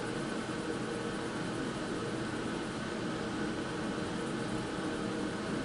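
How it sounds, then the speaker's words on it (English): Loud air conditioner running in a room, a steady, broad, unchanging whoosh of air and motor hum that fills the whole stretch with no pauses or voices. "It's okay, I can listen to my loud air conditioner."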